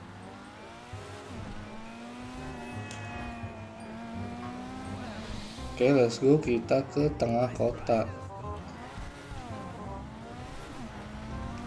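A fast car races through city streets in Grand Theft Auto V, engine droning steadily with a burst of rapid revving bursts midway, while someone talks over it throughout.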